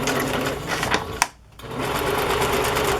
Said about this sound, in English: I'm going to use a zigzag stitch.